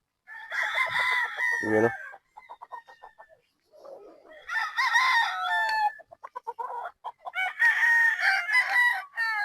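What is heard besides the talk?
gamefowl stag rooster crowing at game farm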